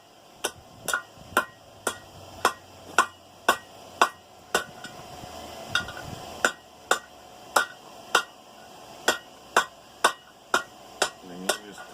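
A hammer strikes hot steel in a steady, evenly spaced series of sharp ringing blows while a camping grill is forged, each impact loud and close with a bright metallic ring.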